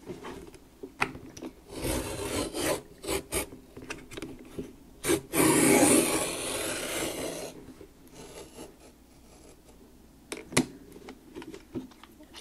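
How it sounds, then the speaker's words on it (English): Blade scraping and cutting around a pillow box shape in card, a series of rough rasping strokes that build to a louder sustained rub mid-way, then sparse taps as the tool lifts away. "So now when I cut, I'm going to cut all the way around."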